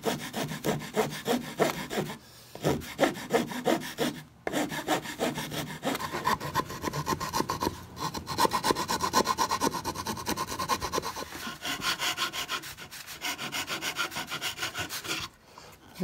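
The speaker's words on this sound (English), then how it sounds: "The rasp is the best thing to use." A wood rasp files a carved wooden longhorn steer with close, rhythmic scraping strokes, repeated in quick runs broken by short pauses.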